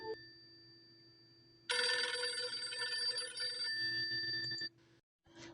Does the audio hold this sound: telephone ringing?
yes